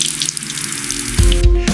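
Water runs steadily from a tap for a couple of seconds, a broad splashing hiss with a few sharper gurgles toward the end.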